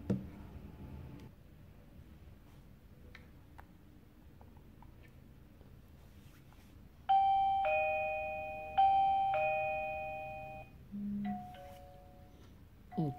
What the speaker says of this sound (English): the doorbell has started ringing on our phone